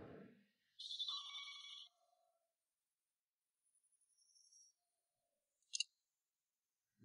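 A telephone ringing, a short burst of bright electronic trilling followed by a fainter second ring and a brief click, heard alone against near silence.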